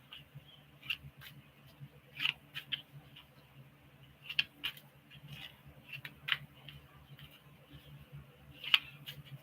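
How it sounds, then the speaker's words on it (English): Tarot cards are shuffled by hand during a live reading, giving soft, scattered crisp snaps and riffles at irregular intervals over a quiet room hum, near and faint, with no talking. "I keep shuffling."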